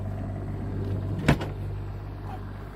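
A diesel generator on a Coachmen Sports Coach 404 RV runs as a low, steady hum with faint tonal drones. A brief knock sounds near the middle, and there is no talking.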